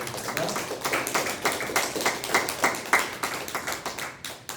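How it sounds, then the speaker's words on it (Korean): A church congregation at a Sunday worship service claps in unison, giving sharp, rhythmic beats close by that carry steadily throughout with no voices over them. "다시 한번 또 우리 하나님께 영광의 박수를 보내드리겠습니다"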